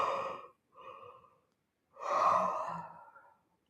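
A person yawns during a yoga session, long breathy airy exhales in three separate swells, the last one longest and deepest, close and quiet with no talk.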